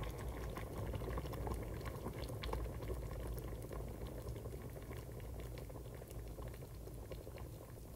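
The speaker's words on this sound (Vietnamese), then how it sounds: "nó sôi ùn ụt các bạn" A pot of seaweed soup with shrimp and tofu boils hard, giving a continuous close bubbling and pattering that stays steady and unbroken with no talking.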